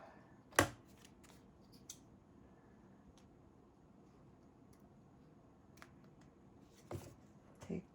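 Scissors snip leftover paper for a handmade Christmas card, a few short, quiet cuts with sparse ticks in an otherwise hushed room.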